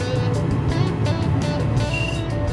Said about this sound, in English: Let this thing kick on totally before I approach the unit. Waiting on the blower motor.